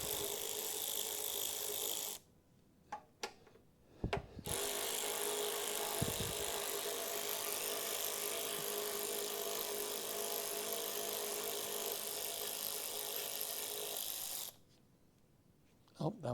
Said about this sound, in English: I might have a socket that's small enough for this. Yes. Electric ratchet